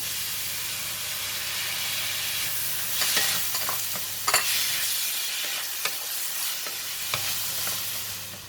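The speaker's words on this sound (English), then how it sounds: "I'm just going to continue to cook for about 2 minutes until all the onions has become soft" Onions and tomato sizzle steadily in a hot pan for a vegetarian vegetable curry, a continuous frying hiss broken by a few sharp crackles and stirring scrapes, close and alone with no talking.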